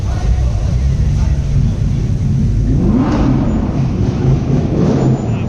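A blacked-out Audi R8 sports car rolling past at a downtown Toronto exotic car show: a loud, low engine rumble that swells with a rising rev midway, amid street noise and voices.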